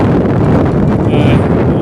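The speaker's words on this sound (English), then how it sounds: "It's too windy for you to hear me." Loud, constant wind buffeting the microphone on a Peak District hillside above a valley, a dense low roar with no letup for the whole moment.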